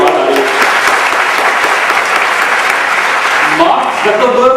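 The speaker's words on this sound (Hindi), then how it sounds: "एक बार जोरदार ताली जहां से भी ये आवाज आ रही है।" Loud, sustained applause from a large audience at a motivational talk, a thick continuous roar of clapping that holds steady before thinning as a voice begins to speak near the end.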